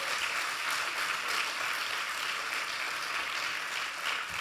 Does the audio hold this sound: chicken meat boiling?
no